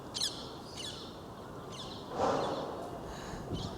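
A few short, high bird chirps in quick bursts over a steady outdoor background hiss, fairly faint and somewhat distant.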